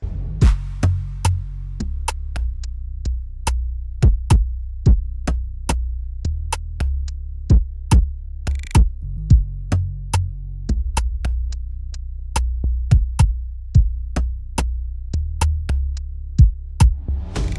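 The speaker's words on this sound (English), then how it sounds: "I'm just clipping the drums." Drum bus in Studio One driven hard into a clipper, giving a steady run of sharp, punchy hits over a thick low throb, the transients flattened and even in level, with no voices.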